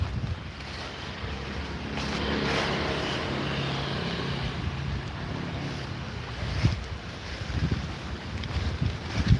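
Steady wind buffeting the microphone outdoors in cold rain, a broad rushing roar with a few sharper gusts and knocks near the end, no talking.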